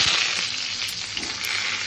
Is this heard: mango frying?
yes